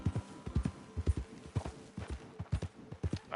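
Horse hooves in Red Dead Redemption clip-clop in a steady, quick rhythm of paired thuds, close and fairly loud, running unbroken through the whole stretch with no talk over them.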